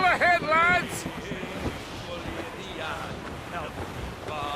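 Sailing ship at sea in the Assassin's Creed Rogue video game, with a steady wash of ocean waves and wind running throughout, while voiced crew chatter sits over it, loudest at the start.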